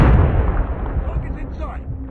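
Frag grenade explosion in Call of Duty, a loud close boom at the start that rolls off into a rumbling, crackling tail over about two seconds, with faint game voices underneath.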